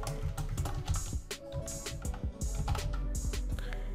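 Keys clatter on a computer keyboard as a page name is typed in a website editor, a dense run of close, crisp clicks with brief pauses between bursts and no talking.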